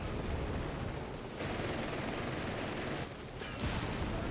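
An AA gun firing at a Panzer IV in Company of Heroes 3, heard as continuous dense rapid gunfire and battle noise, loud and relentless, with no talk.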